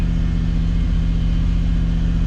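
An LS-swapped square body truck engine runs close and loud with a steady, even rumbling idle and no clear revving in this short stretch.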